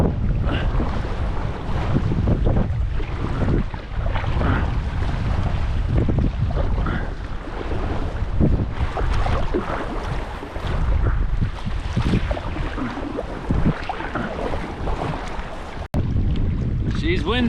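Strong wind roars and buffets the microphone nonstop while a canoe crosses rough, choppy water on a trip across Canada, with a dense low rumble and splashing throughout.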